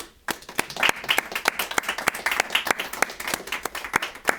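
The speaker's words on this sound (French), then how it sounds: "une magnifique main d'applaudissements" A small audience at a cultural website launch applauds, sparse individual claps ringing out one by one with clear gaps between them, fairly quiet and thin, as if only a few people are clapping.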